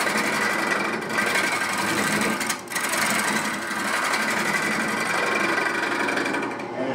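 A wood lathe turns a decorative platter while a cutting tool works near dead center, giving a steady, close, continuous scraping whir with a brief dip partway through.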